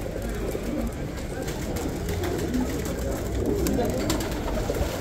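Many pigeons cooing at a bird market in Baghdad's Adhamiyah district, soft overlapping coos with occasional wing flutters and clicks, while people talk in the background.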